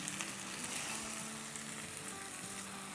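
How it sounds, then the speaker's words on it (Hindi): Chicken frying with onions in a pan for chicken do pyaza, a steady, even sizzle close by with no voices. "बस अब इसको हम प्याज़ों के साथ थोड़ा सा भून लेंगे जब तक कि चिकन का कलर थोड़ा सा चेंज ना हो जाए"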